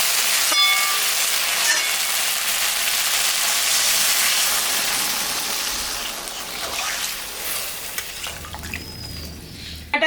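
Water poured into hot frying masala for a mixed-vegetable fish curry makes a loud, rushing hiss that slowly fades over several seconds, ending in lighter bubbling and a few clicks, with no talking.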